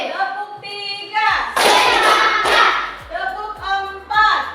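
Rhythmic hand clapping in a group sing-along, sharp claps landing in a regular patterned sequence between bursts of singing voices, close and fairly loud.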